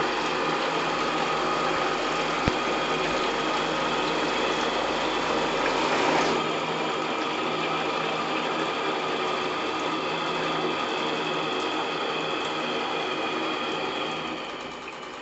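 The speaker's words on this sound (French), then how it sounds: "regardez la machine T200 montée dans Flora" A T200 live steam engine runs in the Flora model boat, a Krick Alexandra kit on the water, with a steady mechanical whirring hum and a brief swell partway through. It holds constant and fades slightly at the end.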